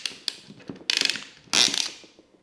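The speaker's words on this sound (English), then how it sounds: "We'll use the good old cinch clamp on it once again." A cinch clamp being crimped onto a hose at a T fitting in a DIY tire inflation setup: a run of close, dry mechanical ratcheting clicks that builds to two louder bursts of clicking.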